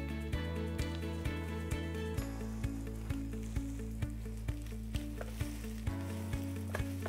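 Shallots sizzling in bacon fat in a pan, a steady frying hiss with regular stirring clicks, alone. Tonal music with a steady beat plays throughout.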